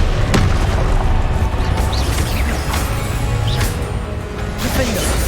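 Confringo blasting spell in Hogwarts Legacy, a loud booming explosion with crashing impacts and bursts amid continuous combat noise, with a voice shouting over the action.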